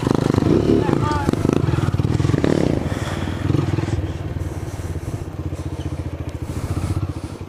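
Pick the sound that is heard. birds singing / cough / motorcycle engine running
motorcycle engine running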